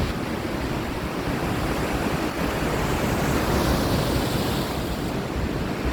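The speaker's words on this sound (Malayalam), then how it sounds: "അപ്പോൾ നമ്മുടെ സ്കോർപ്പിയോ അങ്ങനെ നല്ല കാറ്റ് കൊണ്ട് കിടക്കുകയാണ്" Steady, loud broadband wind roar rushes past a Mahindra Scorpio N while driving through rainy Thiruvananthapuram, a continuous close hiss and rumble with no breaks across the whole stretch.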